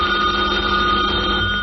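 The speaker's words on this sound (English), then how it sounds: "Robert Gardner is just leaving for the office as the phone rings." A telephone bell rings steadily in a radio drama set in a home a little after nine in the morning, a continuous electric ringing tone that is fairly loud and heard alone without voices.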